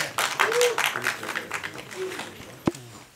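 An audience claps at a trailer release event for the film KRI, a dense burst of applause fading out while a voice speaks over it.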